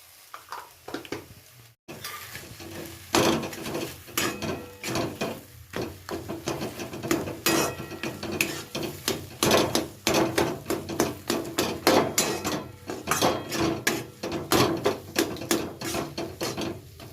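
Spatula stirring and mashing a potato, wheat flour and gram flour mixture with coriander leaves and spices in a pan; repeated rhythmic scraping and tapping strokes, close and fairly loud, continuing steadily with no talk.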